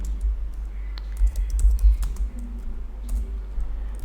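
Quick keystrokes on a computer keyboard entering a number into an online UPSC application form, a short burst of soft clicks over steady low room hum, no talking.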